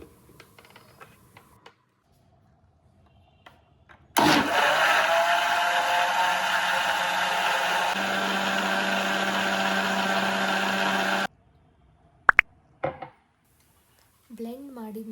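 A blender whirs loud and steady for about seven seconds, mixing aloe vera juice with two glasses of water, starting and stopping abruptly, with quiet kitchen clatter before and after.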